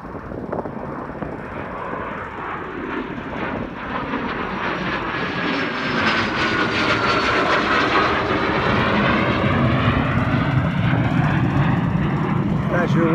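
A private jet takes off with a loud, rising roar and a sweeping engine whine that swells and holds steady at close range over about thirteen seconds.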